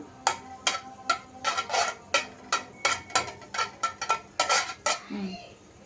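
A spoon scrapes and clinks rhythmically against a pan as ghee melts for sajja pindi laddu, with about a dozen sharp metallic strokes close up before a soft sizzle at the end.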